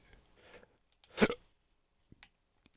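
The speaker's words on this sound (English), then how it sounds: "I do got a burp." A single short, throaty burp is heard close to the microphone in a quiet room, surrounded by a few faint clicks.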